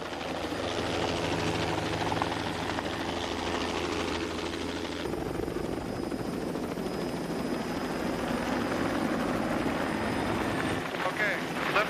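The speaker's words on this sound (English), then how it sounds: "the chopper took Eric Beecham and Melissa Sullivan to safety" Rescue helicopter hovering over a steep cliff slope during a rescue: a steady, loud rotor and engine drone throughout, with the tone shifting partway through and faint voices under it.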